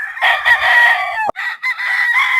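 A three-year-old Boston Black gamefowl rooster crows loudly and close by in one long, strained cock-a-doodle-doo, broken by a brief catch, with no talking over it.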